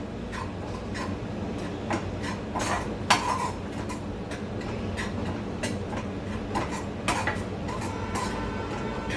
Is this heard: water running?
no